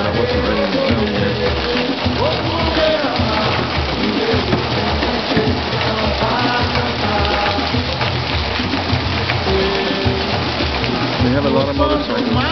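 Steady, loud wash of heavy rain falling on a street in Paragominas, a dense continuous hiss filling the whole stretch with a faint mix of background town noise beneath it.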